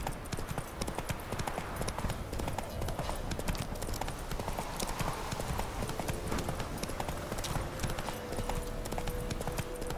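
A horse gallops in The Witcher 3: Wild Hunt, its hooves drumming a fast, steady clip-clop for the whole stretch over a dense bed of game ambience.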